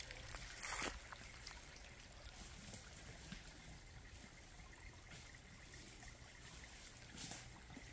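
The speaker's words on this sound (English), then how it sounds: "there's a creek. Little waterfalls." A small creek with little waterfalls on a rural property, heard as a steady, quiet trickle and babble of running water with a few brief louder splashes, no voices.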